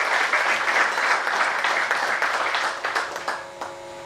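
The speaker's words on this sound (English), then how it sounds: "A big round of applause for all the initiatives taken by the AIBEA in this month." An audience at a bank union event applauds AIBEA's initiatives, dense clapping from many people that holds steady and then thins and fades toward the end.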